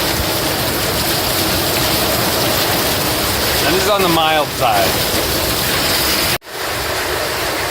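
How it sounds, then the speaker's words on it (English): Heavy rainstorm during the rainy season, a steady dense roar of rain pouring down continuously, with a person briefly speaking over it midway. "Now that it's the rainy season, this is what's typical of our usual kind of rainstorms."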